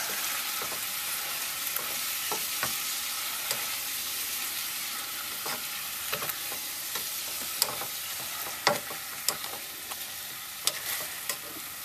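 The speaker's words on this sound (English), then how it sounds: "And just stir it together some." Sauerkraut and pulled pork fry on high heat in a pan, a dense steady sizzle close by, punctuated by intermittent scraping taps of a utensil stirring, with no one speaking.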